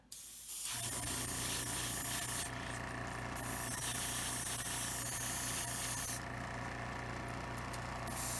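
Spray paint misted in a couple of layers of red tint onto LEDs for a Star Trek 1701-E model kit being prepped for lighting, a steady close hissing spray with short pauses between passes.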